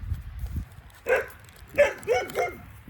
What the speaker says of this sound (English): Please forgive the dog in the background.